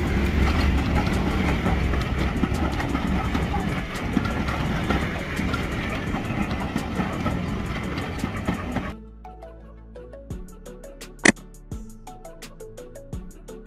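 A passenger train runs along the rails in a loud, steady rumble that stops abruptly, leaving a quiet stretch of scattered clicks and one sharp knock.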